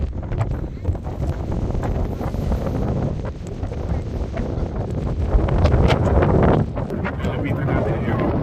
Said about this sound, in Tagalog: mapapansin nyo, sobrang hangin.